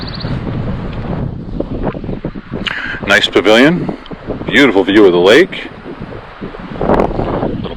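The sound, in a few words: wind by the lake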